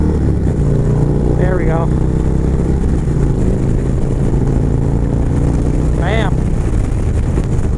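A 2019 Indian Chieftain 116 cubic-inch motorcycle engine drones steadily at close range through a test ride, wind rush over it and brief rising whines, while a rider talks over the engine.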